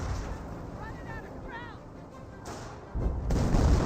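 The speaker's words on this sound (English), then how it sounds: "The artillery is running on now." A barrage from 25-pounder field guns in the Company of Heroes strategy game rumbles as a continuous low roar, with a heavier boom near the end, while a voice talks over it.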